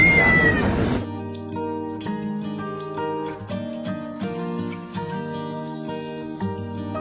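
A cat gives a short meow at the very start, followed by steady, sustained tonal sounds for the rest of the clip.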